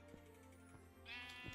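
A TNT sheep in Minecraft Bed Wars lets out a wavering bleat, the in-game animal call rising partway through over a low steady hum, alone without talk.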